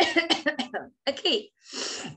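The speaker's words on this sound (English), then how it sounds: "This is the sound of the cough." A teacher demonstrates a cough in a kids' English class, the cough-like burst following a few spoken words and a pause, close and clear.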